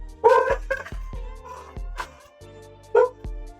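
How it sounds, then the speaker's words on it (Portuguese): Two female dogs bark frantically in short, spaced bursts, with several sharp yaps and whining tones close by against a quieter background. "minhas cachorras latem desesperadamente bem quando eu vou gravar"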